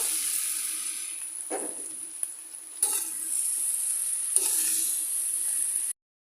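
Okra coated in spices goes into a pan of lightly fried onions over medium heat, giving a loud steady sizzle with a few sharper bursts of stirring and scraping.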